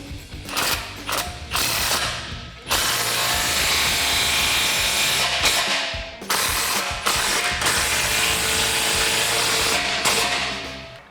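Ratchet wrench tightening 15mm exhaust clamps on the X-pipe of a 2015-2017 Mustang GT with a Corsa Xtreme cat-back: rapid, loud metallic clicking in long sustained bursts with brief pauses, close up and with no talking.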